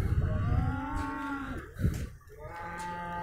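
Cattle moo at a livestock market in Tokmok, Kyrgyzstan, deep drawn-out calls, several overlapping, with a rumbling background of other animals nearby.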